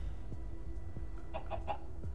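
A chicken clucks in the video game Minecraft Story Mode, a few short, mid-pitched clucks bunched near the end over a steady background hum and soft low thuds.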